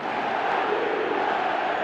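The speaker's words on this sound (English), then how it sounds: "the crowd level has gone up a notch or 10" A stadium crowd in the eFootball video game roars steadily throughout, a dense, continuous wall of cheering with no pauses.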